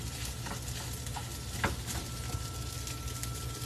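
Kimchi fried rice sizzles steadily in a pan while a utensil scrapes and stirs through it, giving a constant close frying hiss with occasional light knocks.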